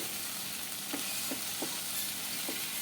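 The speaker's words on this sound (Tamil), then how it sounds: "இப்போ இதை வந்து நல்லா வதக்கி விட்டுடலாம்" Bitter gourd and tomato sauté for a thokku in a pan, giving a steady, close sizzle broken by four or five soft spatula scrapes as the mixture is stirred.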